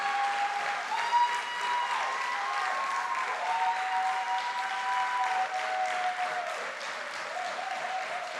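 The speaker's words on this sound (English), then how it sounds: "I think that's a good place to clap." An audience at a university celebration keynote claps continuously, a sustained wash of applause with some whooping and cheering tones rising above it, steady and fairly loud throughout.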